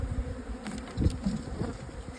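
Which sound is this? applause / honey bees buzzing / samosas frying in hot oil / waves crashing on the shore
honey bees buzzing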